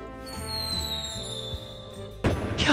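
Fireworks in the Shiny Colors video game, whistling rockets gliding upward over a soft musical backdrop, followed by a sudden loud burst that crackles and fizzles away.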